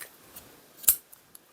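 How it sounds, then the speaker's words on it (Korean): Scissors snip through crochet yarn while making a motif beanie hat, one crisp close cut standing out among a few fainter ticks. "얘를 길이를 지금 이 모자에 둘레만큼 이렇게 둘레만큼의 2배를 정도 남기고 실을 잘라주세요"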